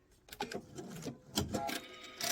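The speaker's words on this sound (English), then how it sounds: "I'm just going to sew it down to this side so it looks all the same" A sewing machine stitches fabric on a travel pouch in short whirring bursts, starting and stopping several times, fairly faint and close.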